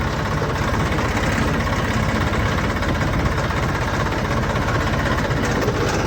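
A tractor engine idles nearby with a steady, rhythmic diesel chug and low rumble, even and continuous throughout with no talking.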